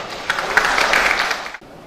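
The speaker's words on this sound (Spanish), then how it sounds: "a quien la recibimos con fuertes palmas" Conference audience clapping, a short burst of loud applause that cuts off abruptly after about a second and a half.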